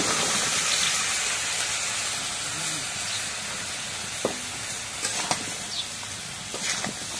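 Curry vegetables go into spices frying in a pan, producing a loud, steady hissing sizzle with steam, followed by a few light knocks and stirring scrapes.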